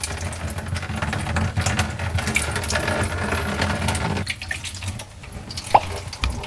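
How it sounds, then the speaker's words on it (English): Water drains and trickles from the unscrewed trap beneath a clogged sink, a close, steady splashing and dripping that thins out toward the end, broken by a single sharp clink. "you can see the water starting to drain"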